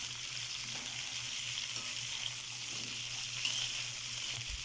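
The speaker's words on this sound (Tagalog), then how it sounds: "ihalo natin yung gulay. Gulay na balatong at saka kalabasa" Mung beans and squash stirred in a frying pan, a steady hiss of sizzling oil with faint scraping stir sounds and a low hum, close and continuous without talk.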